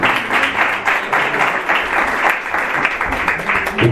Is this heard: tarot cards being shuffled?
no